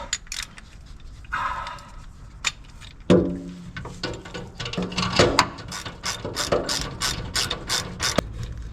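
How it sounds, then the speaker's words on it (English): Ratchet wrench clicking with a deep socket extended by taping it inside a larger deep socket, working on a Land Rover aluminium fuel tank; bursts of close, rapid pawl clicks with pauses and some scraping and clunks, no talking. "This particular section requires an extra deep socket made by taping a regular deep socket inside another much larger deep socket with a little good old duct tape"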